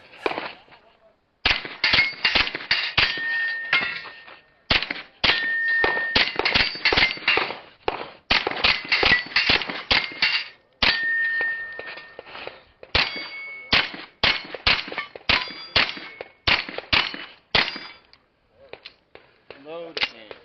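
Rapid pistol shots ringing off steel targets at a local Tuesday night steel shooting match, sharp cracks each followed by a bright metallic clang, fired in quick strings with short pauses between, loud and close.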